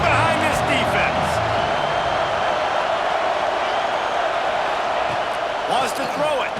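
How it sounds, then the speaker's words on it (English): Dense, steady roar of a stadium crowd backing the defense on a third down in the College Football 26 video game, loud and continuous, with play-by-play commentary talking over it. "this crowd is getting behind this defense"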